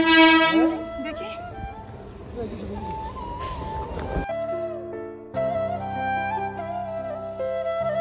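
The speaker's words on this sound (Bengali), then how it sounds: "টিকিট কেটে নামতে নামতে ট্রেন চলে এসেছে" A train pulls into a busy suburban station near Madhyamgram with tonal horn blasts and rumbling rail noise, mixed with voices from the platform crowd.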